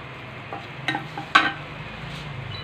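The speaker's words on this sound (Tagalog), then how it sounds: "Sasawin lang natin." Macaroni being sautéed in a pan, a few scraping stir strokes and soft clinks over a faint low sizzle, close and fairly quiet, with no talking.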